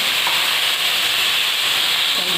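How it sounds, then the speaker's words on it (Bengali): Water poured into a hot kadai of rui fish curry gives a loud, close, continuous steam hiss and sizzle that holds steady for a couple of seconds. "তবে আর একটু সামান্য জল দিয়ে দিলাম"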